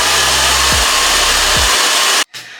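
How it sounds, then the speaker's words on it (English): A blow dryer runs loudly and steadily close up over knotless bohemian braids, its motor dipping in pitch twice before cutting off abruptly near the end. "I like to take the blow dryer and just make sure"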